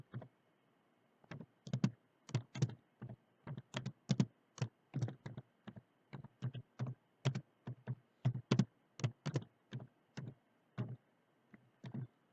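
Keys tapped on a computer keyboard to enter a short word, a close, quiet run of about thirty crisp clicks in uneven bursts, with no voices.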